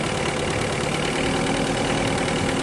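A Mitsubishi Adventure engine with a hard-pulling problem idles nearby, a dense, constant rumbling drone that stays even and unbroken throughout.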